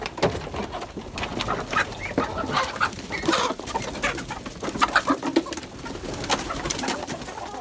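A crowd of Muscovy ducks and chickens of various breeds clucks and coos continuously, many birds close by in a busy, overlapping chorus with no talking.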